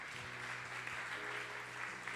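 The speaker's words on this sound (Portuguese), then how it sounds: "Vamos aplaudir Jesus em forte." Congregation at a Sunday church service applauding, an even, continuous patter of clapping that stays steady and moderately distant, with a faint low hum underneath.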